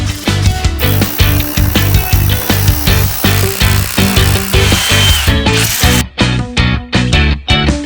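Loud rhythmic power drilling into a wall for an air conditioner installation, a steady pulsing grind that repeats in quick surges before cutting off abruptly near the end.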